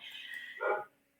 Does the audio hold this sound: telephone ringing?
no